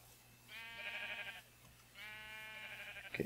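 Two drawn-out Minecraft sheep bleats, each wavering for about a second with a pause between, followed by a brief sharp click at the end, steady and close with no talking.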